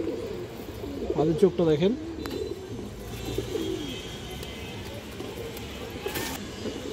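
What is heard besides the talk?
pigeons cooing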